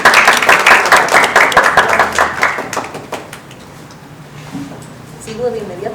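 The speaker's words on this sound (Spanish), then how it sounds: "Un aplauso." Audience applause at a roundtable event on historical massacres in Korea, a loud burst of many clapping hands that thins and fades over several seconds. Voices then talk at low level.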